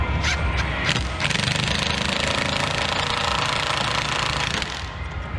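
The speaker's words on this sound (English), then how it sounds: "We can go ahead and run in our lag bolts." Lag bolts are driven into pilot holes in wood for a floating dock, with a loud, continuous rapid hammering rattle from the driver that runs for about five seconds at close range, without speech.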